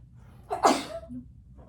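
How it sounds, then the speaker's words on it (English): A single sharp sneeze bursts out close to the microphone, followed by a short breathy exhale. "I'm so sorry, I'm gonna sneeze."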